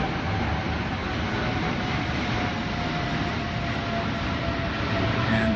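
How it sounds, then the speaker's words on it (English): An airplane rumbles near the Songshan Airport runway in Taipei, a steady broad roar with a faint whining tone running through it, constant and fairly loud throughout. "you can hear the airplane"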